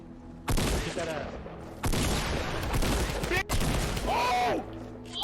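Bursts of Fortnite gunfire come in three dense volleys, loud and close, while players' excited shouting overlaps the shots.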